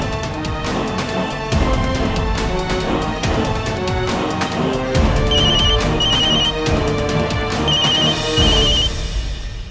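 A telephone rings in repeated electronic bursts with short gaps, loud and close, set over a dramatic background music score in a Hindi TV drama scene.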